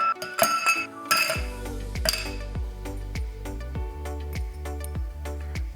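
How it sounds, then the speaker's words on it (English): Ice cubes dropped into a glass while mixing a Red Bull cocktail with Hpnotiq and coconut rum: a cluster of bright clinks and rattles, then a run of ringing taps as the cubes settle, close and clear. "ice into the glass"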